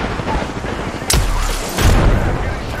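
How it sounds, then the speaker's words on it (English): A grenade tossed onto a staircase bursts in a battle-royale shooter video game, two loud sharp explosions about a second apart with crackling debris, amid game noise. "Throw a nade on the staircase."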